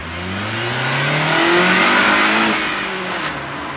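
An inexpensive beginner touge and track car, nicknamed the egg car, accelerates hard nearby, its engine revving loudly with a rising, then falling pitch through the gears, and nobody speaking.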